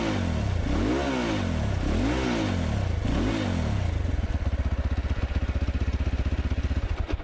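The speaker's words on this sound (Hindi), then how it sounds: "let's rev it now." A ZongShen RX3 Cyclone dual-purpose motorcycle engine revs up three times in rising and falling swells, then settles into a loud, rapid, throbbing idle.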